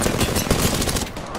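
Rapid automatic gunfire in a video game, a loud, continuous burst of closely spaced shots with no pauses.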